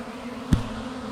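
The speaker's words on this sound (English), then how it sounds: "This should be enough bees." Honey bees buzz steadily inside a bucket, a continuous low drone close by, with a single soft thump partway through.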